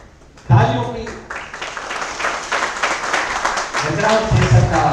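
An audience at a Dr. B.R. Ambedkar Jayanti event breaks into brief, moderate clapping that rises suddenly and continues under someone speaking through a microphone.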